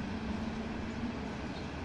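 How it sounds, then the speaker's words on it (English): A coal train rumbles through a small town near a switching yard, a steady, dense, continuous low roar and clatter heard close and with no talking. "From here, we saw this coal train rumble through town."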